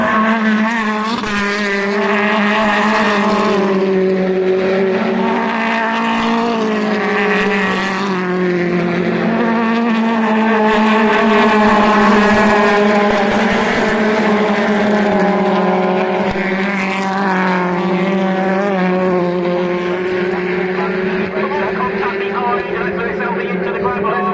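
BTCC touring race cars pass the grandstand at Oulton Park, with loud engine whines rising and falling as cars go by in quick succession beneath continuous commentary.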